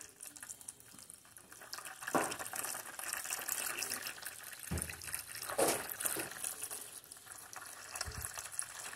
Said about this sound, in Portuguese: enquanto tá enchendo aqui 8 litros de água